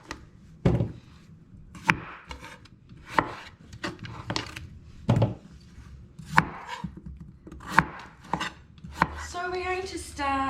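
A knife blade chops vegetables on a board in a home kitchen, a series of sharp, irregular thuds about one per second, close and distinct, with some rustling between strikes.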